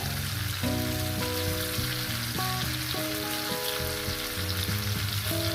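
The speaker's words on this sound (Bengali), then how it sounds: "দিয়ে দিয়ে আলুগুলো ভেজে নিচ্ছি" Potatoes fry in hot oil with a steady, close sizzle that runs the whole time, while sustained tonal notes like background music sit over the frying.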